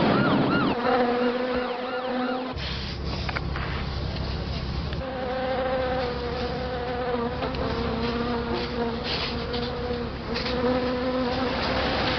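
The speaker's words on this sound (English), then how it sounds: "This is a swarm of our own creation" A dense swarm of insects buzzes steadily and loudly for the whole stretch, with layered droning tones that waver and shift as the insects move close by.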